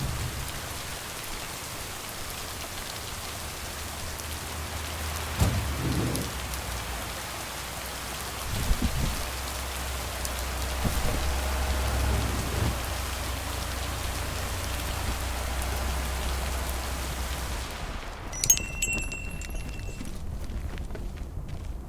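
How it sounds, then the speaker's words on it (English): Rain falls steadily in the video game Lake, a soft continuous hiss with a few heavier thuds and low rumbles, ending in a brief high electronic chime. "Now let's see if it will keep raining cats and dogs."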